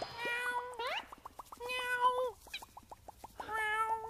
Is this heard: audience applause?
no